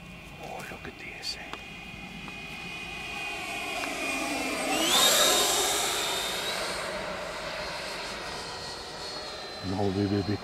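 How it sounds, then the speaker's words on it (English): A Freewing Avanti S 80mm EDF radio-controlled sport jet on its maiden flight whines steadily overhead, its ducted-fan pitch rising and swelling as it passes close, then fading, while people talk quietly nearby. "So I will see how much I can slow down the plane."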